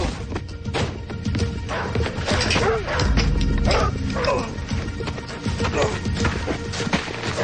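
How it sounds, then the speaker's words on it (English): Dogs in a fight bark, yelp and whimper in a rough, continuous scuffle with crashing sounds mixed in, loud and close, while people shout over it. "we're going to have ourselves a real dog fight"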